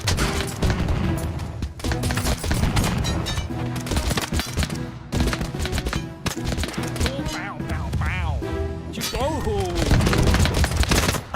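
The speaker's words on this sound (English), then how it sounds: "So much gunfire, so many bombs." Dense battle din from a red-versus-blue TABS fight among World War I units: continuous volleys of gunfire and heavy explosions layered over each other, loud and unbroken throughout, with whistling sweeps cutting through near the end.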